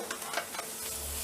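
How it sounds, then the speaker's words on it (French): Meat browns in a pan with herbs and spices, a soft steady sizzle with light stirring scrapes close by and no voices. "Et on fait bien revenir la viande"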